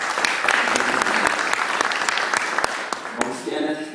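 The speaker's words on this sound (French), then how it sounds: "je vous demande d'applaudir très très fort pour ses sacrifices" An audience at an Islamic finance day panel gives loud, sustained applause, dense clapping throughout that thins toward the end.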